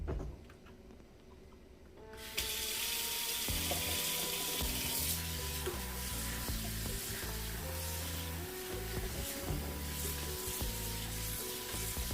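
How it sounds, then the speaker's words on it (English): Rice being rinsed under a running kitchen tap: a quiet start, then a loud, steady rush of water from about two seconds on, with sloshing and stirring as the grains are mixed around in the sink. "I just put it under water and I mix it around for like 2 minutes maybe."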